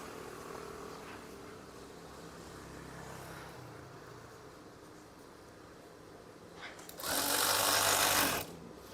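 A sewing machine stitches curtain fabric, running with a steady mechanical hum before a louder, faster burst of stitching near the end, close and with no talking.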